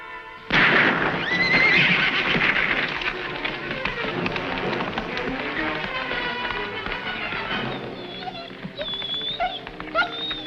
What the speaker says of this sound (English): So I spook up the horse and he don't get on.